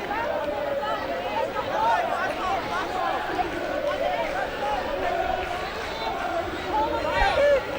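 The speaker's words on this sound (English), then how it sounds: "The vocal crowd, as always, at Rodney Parade, packed in on the other side" A packed, vocal rugby crowd at Rodney Parade during a women's Wales v Australia match sends up a continuous babble of shouts and cheers that swells and falls, with a commentator speaking over it.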